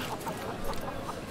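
A chicken clucks in a Sherlock Holmes video game, with several short repeated clucks over faint farmyard background sound.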